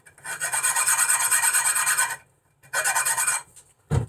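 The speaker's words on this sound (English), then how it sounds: "So what I'm going to do is just a little rub, nothing major" Brake pins on a kit car rubbed down by hand to strip surface rust, two long abrasive rasping strokes up close followed by a short scrape and a dull knock, with no talking.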